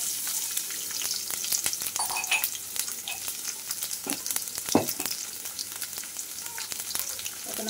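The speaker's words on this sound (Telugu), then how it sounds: "ఇప్పుడు కచ్చా దంచుకున్న ఎల్లిపాయల్ని తాలింపులో" Crushed raw garlic sizzles and crackles in hot tempering oil for a lemon pickle, a steady close frying hiss with scattered pops and a few louder bursts, no voices.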